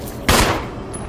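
A single loud gunshot in the video game Resident Evil Remake, a sharp blast with a short decaying tail, alone with no talking.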